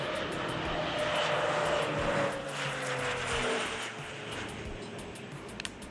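A crop-dusting airplane flies over a plantation, its engine a steady loud drone whose pitch sinks as it passes overhead and draws away.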